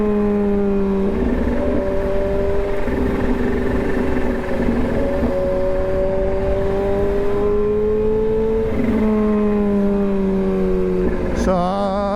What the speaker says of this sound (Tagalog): Masaya na ako, nadidinig yung sipol ng motor ko